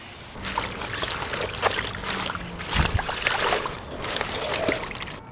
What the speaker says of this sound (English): you can wash your greens outside using the hose